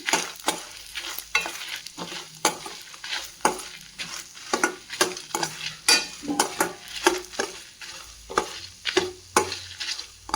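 Spices for okra sambar lightly roasting in a pan, a soft sizzle broken by a regular rhythm of close stirring and scraping strokes, with no talking.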